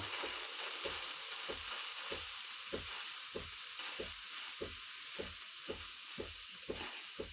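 A steady, hissing rush of steam from an espresso machine's steam wand runs throughout, with soft low pump thumps pulsing underneath at a regular, quick pace.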